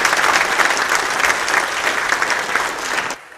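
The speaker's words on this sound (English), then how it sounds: "I want to give her a round of applause." Church congregation at a revival service giving a round of applause for one of its members, loud, dense clapping that carries on steadily and then stops abruptly.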